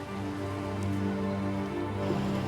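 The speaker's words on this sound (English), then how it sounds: "A desperately needed rain shower." A welcome rain shower falls during a wildfire, a steady, close wash of rain hitting surfaces that holds an even level throughout with no voices.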